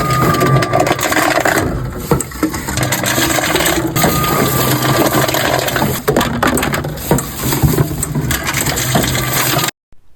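A reverse vending machine crushes PET plastic bottles, a loud continuous grinding and crackling churn that runs steadily, then cuts off abruptly at the end, with no talking.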